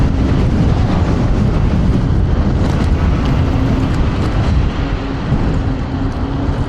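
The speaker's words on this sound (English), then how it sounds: "It feels super windy right now." Strong gusting wind roars continuously across the microphone during a POV ride on a TRBK-M2 electric scooter on a windy afternoon, a loud, dense rush with no speech.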